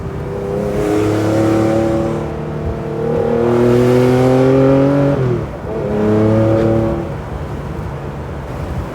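A Theon Design resto-mod Porsche 911 Targa, a lightweight carbon-bodied car with a 407 bhp engine, driven in normal exhaust mode: a steady engine note rises through the gears in repeated revving pulls, with a brief lift and shift between them, close and loud.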